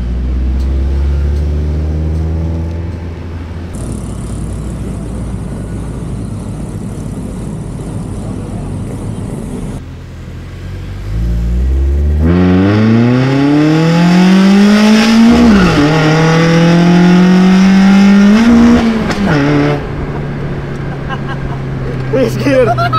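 Mazda Miata NA fitted with individual throttle bodies revving up, engine pitch sweeping upward in a loud climb, dipping and rising again before settling back, close by with talk around it.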